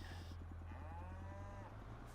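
Several cows in Farming Simulator 25 moo in a long, drawn-out call over a steady low farm hum, close and clear on a pasture at The Hamlet farm.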